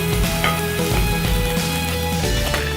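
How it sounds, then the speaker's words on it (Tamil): Onions or aromatics sauté briefly in a hot pan before chicken goes in for a Chennai-style chicken kurma, giving a steady close sizzle broken by a few light scrapes and clinks of stirring. "சும்மா கொஞ்சம் வதக்கிட்டு இது சிக்கன் போடணும்"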